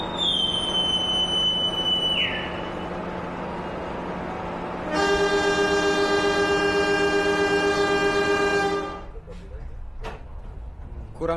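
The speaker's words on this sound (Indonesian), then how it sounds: "kereta api Serayu memulai perjalanannya hingga ke Jakarta Pasar Senen" Serayu passenger train pulling out of Purwokerto station on its morning run to Jakarta Pasar Senen, a loud multi-tone horn blaring steadily for about four seconds after an earlier higher tone, with station ambience and nearby voices underneath.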